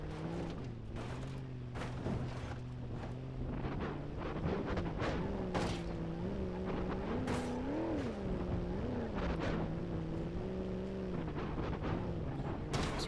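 A randomised truck in the BeamNG driving game runs with a steady droning engine note that rises and falls with throttle, punctuated by repeated sharp knocks and clunks, with no talking.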